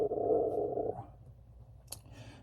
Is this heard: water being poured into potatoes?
no